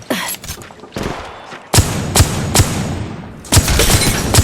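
Gunfire in the mobile shooter Apex Legends Mobile, a string of sharp, loud shots in quick bursts with short gaps between them, close and punchy.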